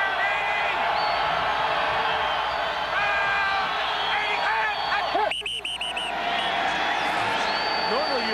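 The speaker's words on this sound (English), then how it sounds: "Normally, you come up to Green Bay with the crowd noise." Stadium crowd at a Green Bay Packers home NFL game against the Atlanta Falcons in 2001, a steady broad roar and murmur running throughout beneath a commentator's continuous talk.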